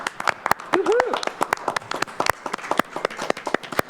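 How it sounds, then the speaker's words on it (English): A small group claps at a police merit commission meeting, producing sharp, irregular handclaps that continue throughout. A voice speaks briefly partway through. "encourage you to join me in applauding Captain Cantrell for our this month's performance recognition recipient"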